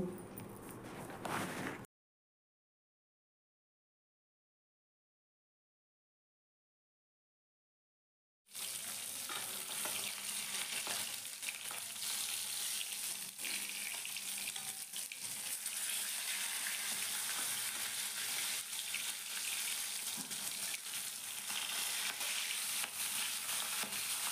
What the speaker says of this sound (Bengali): এদিকে দেখো মাছগুলো আমার খুব ভালো করে ভাজা হয়ে গেছে